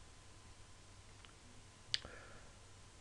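A single sharp computer mouse click on a photo while searching family history records online, one crisp tick standing alone in a quiet room with faint background hiss.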